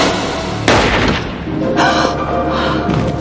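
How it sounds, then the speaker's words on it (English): One loud gunshot in a TV drama scene booms suddenly over dramatic background music and then decays into a lingering rumble. "now Skinner has to explain why he shot an unarmed man"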